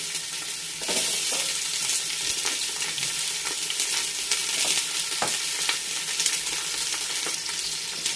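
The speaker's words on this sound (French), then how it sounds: "on va mettre les oignons dans la casserole" Oil sizzles and crackles steadily as onions fry in a saucepan, with occasional clicks and stirring scrapes throughout.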